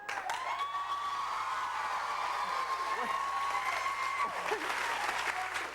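A studio audience on a live American Idol radio-television broadcast cheers and applauds for Simon, a sustained dense burst of clapping with whoops and a tonal undertone, continuous and loud throughout.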